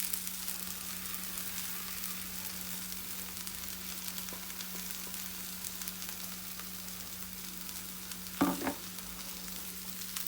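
Grated coconut stir-frying with sliced okra in a hot pan, a steady soft sizzle with a constant hum beneath and one brief clatter of stirring near the end, no voices.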